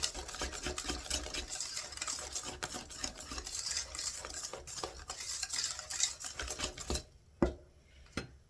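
A spatula stirs clafoutis batter with melted butter in a bowl, producing a continuous soft, wet scraping and swishing up close. Near the end it breaks into a few isolated taps and scrapes against the bowl.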